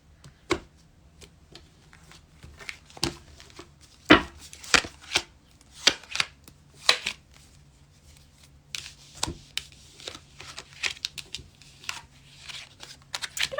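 A deck of cards is cut and handled on a table, giving irregular sharp taps and slaps with brief shuffling in between, close and fairly quiet.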